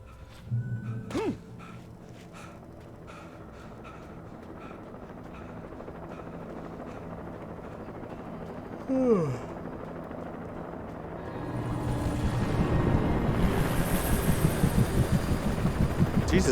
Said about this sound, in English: they have a helicopter looking for me?